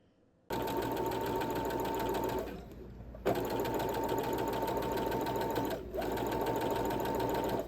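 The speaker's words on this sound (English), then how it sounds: "then I'm going to start sewing" A sewing machine stitches clothing pattern pieces in a steady, close whirring run, pausing briefly twice before starting up again at the same even pace.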